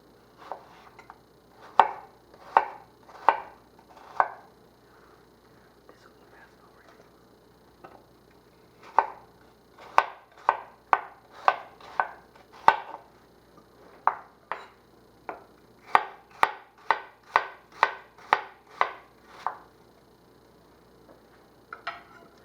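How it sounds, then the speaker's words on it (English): A knife slices through cored, peeled apples on a board, cutting them into quarter-inch pieces in a steady run of crisp, evenly spaced chops, grouped in several rapid series with short pauses between. "I'm going to chop them into about 1/4 inch slices"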